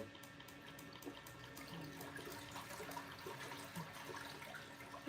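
An aquarium water pump turned up to maximum speed gives a steady, close, gurgling rush of moving water. It runs evenly with no voices.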